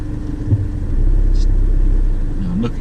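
A car rolls slowly forward into a parking bay on a driving test route, its engine a steady low rumble heard from inside the cabin, with brief faint sounds from the driver.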